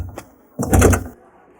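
A car door clunks and rattles as someone climbs into the car, a brief light knock followed by a fuller, louder thump and shuffle lasting about half a second, close by.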